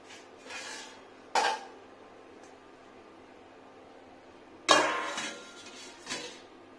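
Metal lid set onto a cooking pot of papaya and potatoes, with a sharp clank, then a quiet stretch, then a louder clatter followed by a softer knock, close and alone against a faint room hum.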